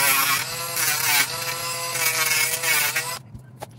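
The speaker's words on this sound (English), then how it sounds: "we'll just use our barrel sander for that" A rotary barrel sander grinds the sharp, burred cut ends of a small SCX24 RC crawler part, a loud, high whining buzz that wavers as the piece is pressed, then cuts off with a couple of light taps.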